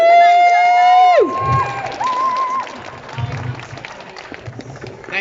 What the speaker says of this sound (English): So massive hands, round of applause please for Nigel.